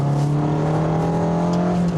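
A Fiat 500's small engine revs up hard, a loud buzzing drone climbing steadily in pitch as the car accelerates, close and alone with no talk.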